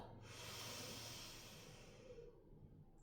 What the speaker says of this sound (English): Breathe in right. Block right, breathe out left.